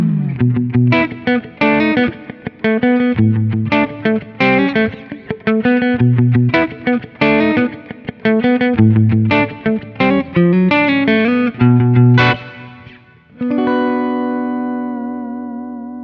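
A G&L Tribute Comanche electric guitar on its middle single-coil pickup plays a quick picked riff of repeated notes, then ends on a ringing chord that slowly fades.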